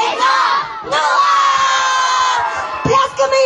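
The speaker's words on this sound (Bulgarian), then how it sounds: "Пляскаме и викаме всички!" A large outdoor crowd at a Christmas tree lighting in Tutrakan erupts in loud sustained cheering and shouting right after a countdown, with some children's voices, the roar briefly dipping before surging again.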